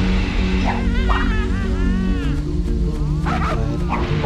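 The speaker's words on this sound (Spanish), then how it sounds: "Perros guardianes." Guard dogs in the PS2 game Crash Twinsanity bark and whine in loud, repeated yelps over a constant droning game soundtrack.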